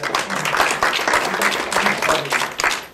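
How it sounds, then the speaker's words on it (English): Audience applause for a performer at a magic show, a lively burst of many clapping hands with uneven swells and brief gaps, close and fairly loud. "Give her a round of applause."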